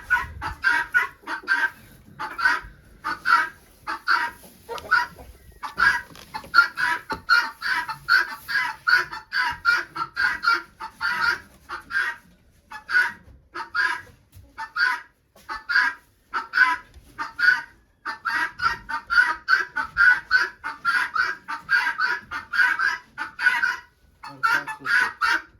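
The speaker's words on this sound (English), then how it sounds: "chickens are in the coop for the night" Chickens cluck steadily inside a farm coop at night, with many short, close, repeated calls forming a busy, continuous chatter throughout and no voices.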